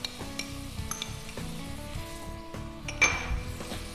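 Chopped olives and tomato sautéing in a pan for a salt cod pie, with a close, steady sizzle, stirring and light clinks of a utensil against the pan.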